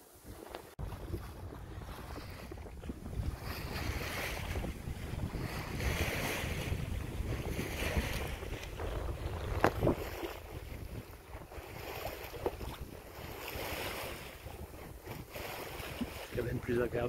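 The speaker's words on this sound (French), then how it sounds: "Le bruit de ce moteur, ça prend la tête." A sailboat's motor hums steadily at sea beneath strong wind and splashing waves, with gusts buffeting the microphone throughout.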